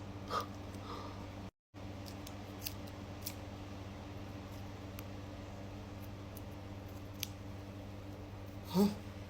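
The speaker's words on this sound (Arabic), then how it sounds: "روح نقص الرمش" Small scissors trim eyelashes with a few faint, close snips spread out over a quiet room hum, with soft breathing nearby.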